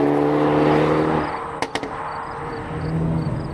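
A 2024 Hyundai Elantra N drives along with a loud, steady engine drone that eases off partway through, broken by a couple of brief sharp knocks.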